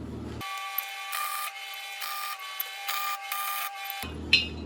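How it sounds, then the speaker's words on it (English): Tack welding on a steel cart tongue, with several short bursts of buzzing, crackling arc separated by brief pauses in a quiet workshop and no talk. "we're gonna go ahead and tack it"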